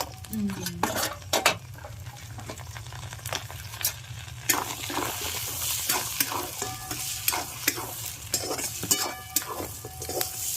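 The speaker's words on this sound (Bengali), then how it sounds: "এই চিংড়ি মাছ ভাজলে না তেলের মধ্যে ফেনা হয়ে যায়।" Prawn legs fry in hot foaming oil during preparation of a large 1 kg golda prawn malai curry, giving a steady close sizzle broken by frequent sharp clinks and stirring scrapes of utensils against the pan, with no talk.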